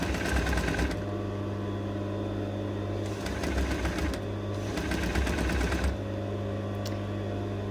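A sewing machine runs in steady bursts while stitching two pieces of fabric together, with loud, close, rapid mechanical whirring that pauses briefly between runs, over a constant low hum.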